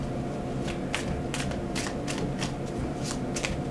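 Tarot cards being shuffled by hand: a run of quick, crisp riffling bursts repeating in an uneven rhythm, close and clear, with no talking.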